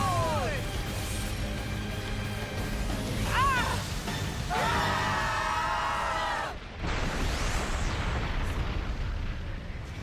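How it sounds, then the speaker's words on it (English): A steam explosion in the video game Xenoblade Chronicles 2 booms as a loud, rumbling burst, surrounded by dense game music and effects with whooshing swells and a brief drop partway through. "Kaboom. Steam explosion."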